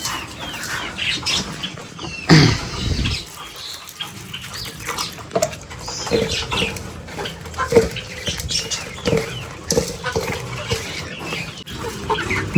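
Farm chickens clucking and scrambling as they eat feed mixed with quail feed, a busy, moderately loud flock with scattered pecking patter and occasional wing flaps.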